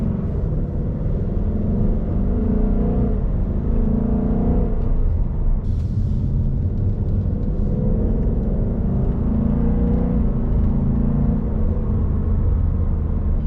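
A 2020 Ford Mustang GT Premium idles steadily with its exhaust set to quiet mode, a low, even engine rumble heard close up under the hood, with a brief higher whir partway through and no talking.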